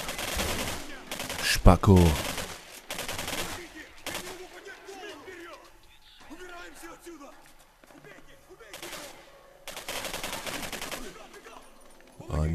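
Gunfire in the shooter game Singularity comes in separate loud bursts of rapid shots, with quieter stretches between them where someone talks.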